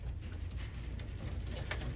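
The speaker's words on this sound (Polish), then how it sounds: "I mamy drugiego gołąbka, ten już jest z mojej hodowli" A pigeon from a home-bred loft coos close by, soft low throaty calls over a steady murmur of birds in the coop, with no talking.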